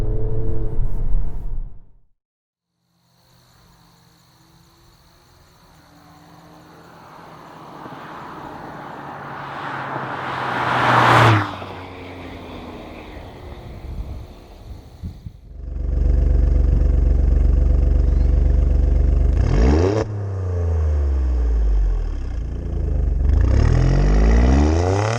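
A 2019 Alfa Romeo Stelvio Quadrifoglio SUV's engine revs hard, climbing to a loud exhaust blare that cuts off, then surges again through rising and falling gear pulls with a deep, close roar.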